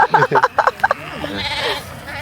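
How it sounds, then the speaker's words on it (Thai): Sheep bleat on a farm visit in Nan, Thailand, several short wavering calls in quick succession right after a woman and child chatter nearby, then a softer drawn-out cry. "แกะน่ารักมาก"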